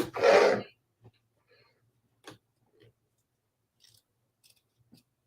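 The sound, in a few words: hoop scissors mini trimming close to stitching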